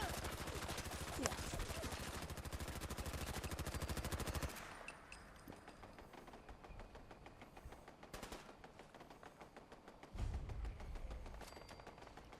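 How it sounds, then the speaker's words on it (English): Constant gunfire in the video game Fallout 4, a dense, rapid automatic rattle that runs unbroken, then drops to quieter scattered shots before another loud burst near the end. "the constant gun noise"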